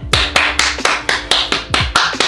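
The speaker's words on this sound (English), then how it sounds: "I have to clap for this one." Eight sharp hand claps in a steady, fairly quick rhythm, close and loud, with no voices.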